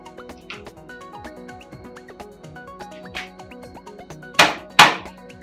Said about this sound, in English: This is why we include a small rubber mallet. So gently tap.